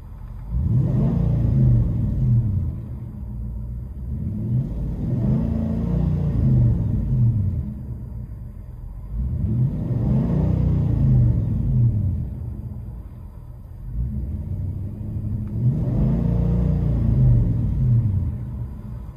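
A 2008 Nissan Titan 5.6L V8 with 295,000 miles and a true dual Flowmaster Super 40 exhaust, heard from inside the cab, rumbles deeply through four separate revs, each swelling loudly and then settling back to idle.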